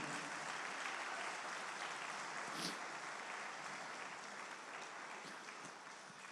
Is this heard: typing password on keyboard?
no